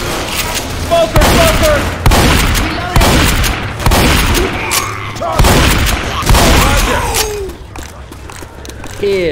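Repeated bursts of automatic gunfire from Counter-Strike while fighting armored zombies in an office map, loud and close, several volleys in quick succession with booming impacts and brief gaps between.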